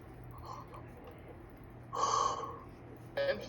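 A man snoring nearby in a quiet room, giving two separate rasping snorts, one longer and one short near the end, with low background hum between them.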